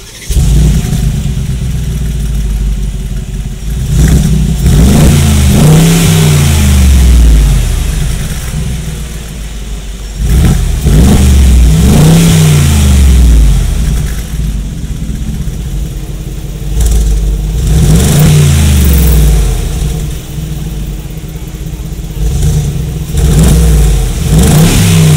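A Mercedes-AMG G63 SUV with a hand-built AMG engine revs loudly up close, with several deep throttle blips that climb and fall back between bursts.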